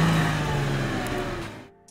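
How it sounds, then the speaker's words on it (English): A Toyota Land Cruiser engine drones steadily in low gear while crawling off-road, a loud, rough rumble that fades out near the end. "the cruiser moved on with confidence"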